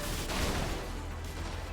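Heavy game weapon fire from a mortar-armed mech in Brigador, a dense, steady rumble of blasts and low booms running throughout at close range with no talk.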